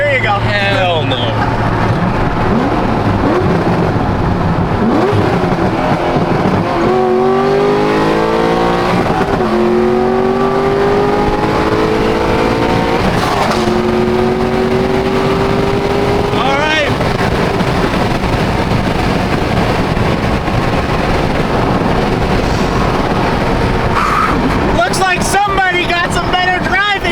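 A BMW M4 pulls hard under acceleration, its engine note climbing in repeated rising sweeps with abrupt drops at each quick gear shift. Heavy wind rush runs beneath it, and voices talk over the run toward the end.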